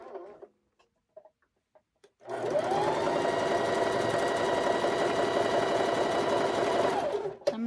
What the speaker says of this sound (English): now we're gonna sew on the edge